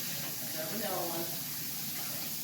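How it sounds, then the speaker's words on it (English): Water runs steadily from a kitchen tap to rinse cake batter off a spatula, a continuous close hiss with a brief splashing swell midway as the utensil passes under the stream. "I'll rinse it off so that I can use the spatula again"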